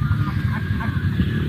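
Roughly 40 to 50 pigeons crowd a village pigeon house, their low cooing and burbling blending into a steady, dense murmur heard close up.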